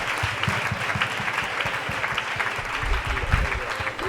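Church congregation applauding at an evangelistic gathering, a steady, close, full round of clapping that fills the moment with dense, continuous hand claps.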